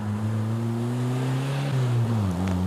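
Classic MG cars on a country road during a rally in the Hunter Valley near Newcastle, engines droning steadily with low, shifting harmonic tones as a vehicle passes, continuous and fairly close with no talking.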